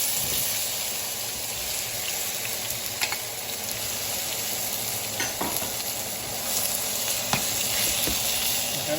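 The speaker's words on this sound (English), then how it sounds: "Then you want to cook your tomatoes." Tomatoes sizzle in a pan still coated with egg, a loud, steady frying hiss broken by scattered clicks and spatula scrapes throughout.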